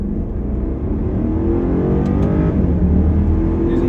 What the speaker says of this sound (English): Going to go ahead and step on it in second gear.